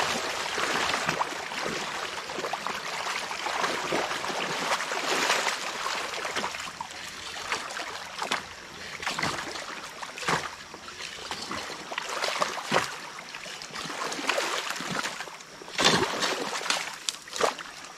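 Creek water rushes and splashes steadily nearby after a beaver dam is removed, a continuous churning flow with occasional louder sloshes.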